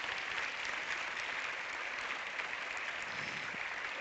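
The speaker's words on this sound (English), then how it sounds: "Big round of applause to them." Audience applause at a European film award event as a director and cast enter the room, even sustained clapping from a large crowd, heard at a distance and fairly faint.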